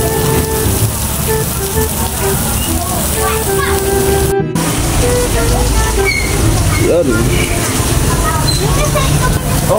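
Steady rain falling, a dense hiss of drops on surfaces that lasts throughout, with a brief break partway, some faint background sounds and voices.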